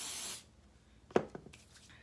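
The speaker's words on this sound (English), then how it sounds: "hairspray and just flatten the top." Mega Hold hairspray sprayed onto hair from an aerosol can: one steady, close hiss lasting under half a second, followed by quiet rustling as the hair is handled.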